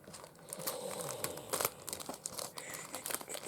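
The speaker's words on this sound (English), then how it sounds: "if you saw me trying to put these cards in this bag right now" Cards are pushed into a crinkly plastic bag, giving close, irregular bursts of crackling and rustling that come and go, quiet overall with no talk.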